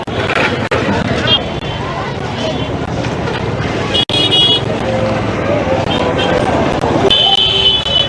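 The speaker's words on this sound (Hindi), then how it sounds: "तो हमारे पीछे ट्रैफिक है।" Busy Delhi street traffic with steady engine rumble and several short car horn toots, loud and continuous throughout, with voices talking over it.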